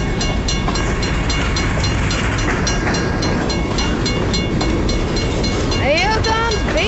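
A BNSF freight grain train rolls steadily past at Garvin, Oklahoma, a loud continuous rumble with rhythmic clickety-clack of wheels over rail joints and metallic squeals near the end, while a voice speaks excitedly over it.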